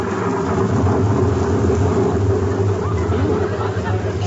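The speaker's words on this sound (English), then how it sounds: "It's raining." Radio-show rain and thunder effect: a dense, loud, continuous wash of falling rain with low rolling thunder rumble underneath, steady throughout the short stretch.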